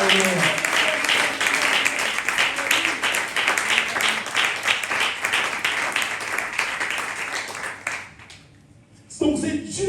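A church congregation at a Sunday service applauds steadily for several seconds, dense and loud, with voices mixed in, fading out near the end before a voice returns.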